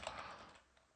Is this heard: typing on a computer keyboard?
yes